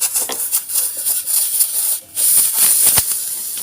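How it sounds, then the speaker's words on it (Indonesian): Freon refrigerant gas blasting out of a freshly cut refrigerator pipe, a loud, steady broadband hiss that holds strong throughout, briefly dropping out once before resuming with a sharp click near the end. "semburan gasnya sangat kencang sekali"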